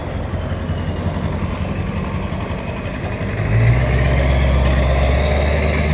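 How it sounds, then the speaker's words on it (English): Truck towing a boat passes by, its heavy engine rumble swelling loud and close partway through over steady road noise, with no one talking. "That truck that just passed with a boat behind it was not an illusory experience in the Matrix."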